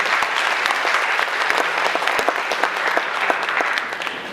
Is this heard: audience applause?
yes